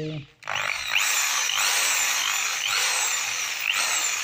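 Maktec MT80 electric drill, a 500-watt 480 rpm model, whirring loudly and steadily close up, its high whine swelling slightly in repeated surges as it runs under load.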